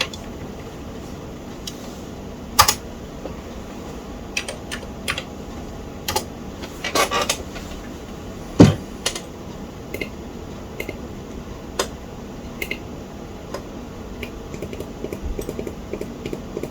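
Typing on a Commodore 128 keyboard, with scattered key clicks and a few louder strokes breaking up uneven bursts of keystrokes over a faint steady room hum.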